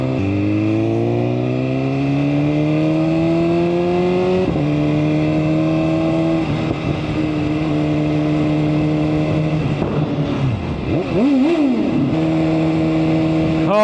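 A 2024 BMW M1000RR motorcycle engine roars loudly and close, climbing steadily through the gears with rising pitch, then revving and blipping sharply near the end.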